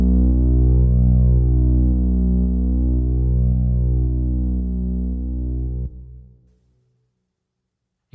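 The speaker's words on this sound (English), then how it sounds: "This is a very basic patch, and it is just a saw wave." A sustained low sawtooth synth bass note, thick and chorused with a shimmering wash, ringing out in reverb before fading to silence.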